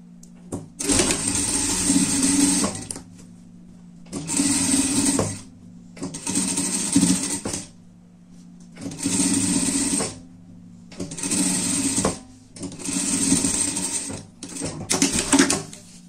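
A sewing machine stitches a pet cape in six short bursts of whirring, each a couple of seconds long with quiet gaps between, close and fairly loud.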